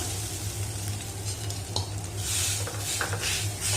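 Grated coconut roasts in ghee in a pan over medium flame, a steady close sizzle with occasional stirring scrapes and light utensil clinks, no voices.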